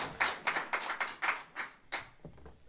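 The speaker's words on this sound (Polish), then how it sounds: "Wielkie brawa dla niego." Applause at a literary contest award ceremony for a winner: a handful of distinct, fairly close hand claps in an uneven rhythm, thinning out after about two seconds.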